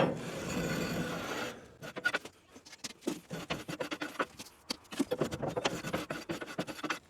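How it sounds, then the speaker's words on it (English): A small metal scraper rasps ash out of a Central Boiler Classic Edge 760 outdoor wood boiler in repeated close, scratchy strokes, at first as one steady scrape and then as irregular short bursts, with no talk. "Take this little scraper and you can scrape out whatever ash is in here."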